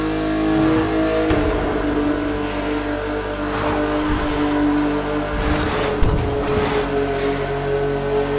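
A souped-up Honda car engine in The Crew Motorfest video game revs and drones steadily, with a sustained loud tone and a few sharper throttle blips toward the end.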